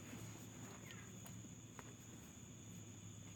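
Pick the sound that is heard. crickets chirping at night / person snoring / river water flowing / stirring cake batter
crickets chirping at night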